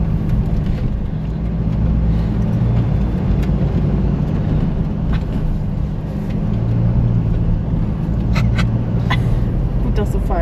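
A car drives and slides through loose sand, its engine droning steadily under continuous road and chassis rumble, with occasional sharp knocks and rattles near the end.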